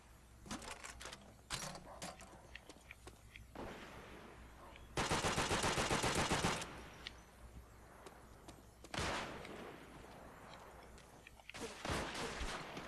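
Hip-fired automatic weapon bursts in Call of Duty: World at War team deathmatch, several sharp bursts of varying length with one long sustained burst, loud and close amid quieter game noise.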